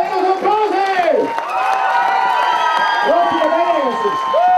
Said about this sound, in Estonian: Ja teile ennus aplausi!